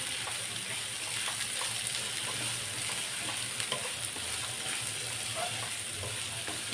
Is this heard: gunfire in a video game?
no